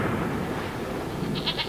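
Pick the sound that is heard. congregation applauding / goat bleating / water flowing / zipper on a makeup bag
goat bleating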